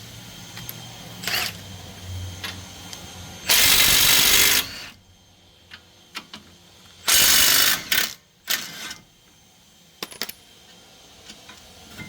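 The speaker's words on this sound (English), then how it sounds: "we'll take off these 21mm bolts holding the brake caliper bracket. We'll use the Milwaukee and the 21mm" A Milwaukee impact wrench with a 21mm socket hammers out brake caliper bracket bolts on a 2018 VW Atlas front brake, two loud bursts of rattling impacts separated by metallic clicks and clatter, with no talking.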